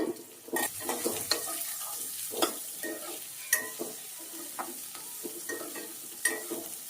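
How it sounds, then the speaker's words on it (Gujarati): Green chillies and onion fry in oil while being stirred, giving a continuous sizzle broken by repeated scraping and clinking of a utensil against the pan, close and fairly loud. "કાંદાને બરાબર તેલમાં સાંકળી લઈશું"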